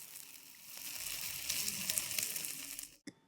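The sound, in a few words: hot spoon sizzling sugar caramelising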